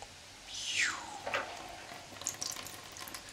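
Water is poured onto a Vivobarefoot Primus Trail shoe's fabric upper, a short splashing pour followed by a few faint drips and trickles, close and fairly quiet.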